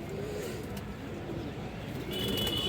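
Soft low cooing from pigeons drifts under a faint background rumble, with a brief higher tone near the end, quiet and somewhat distant.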